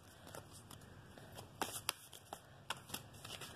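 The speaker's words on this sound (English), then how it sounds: "I'm going to take a chakra card for this one." Chakra oracle cards are shuffled by hand, a soft papery riffle broken by sharper flicks and slaps, close and fairly quiet with no talking.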